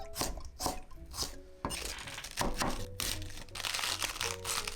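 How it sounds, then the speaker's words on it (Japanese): A knife chops repeatedly through raw cabbage leaves, rolled up and cut into 1 cm strips on a board, irregular sharp cuts with crunchy slicing, close and fairly quiet, no talking. "葉っぱはくるっと丸めて端から包丁で1センチに切ります。"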